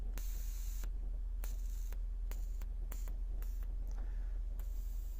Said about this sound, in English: I didn't expect it to just make a hissing noise.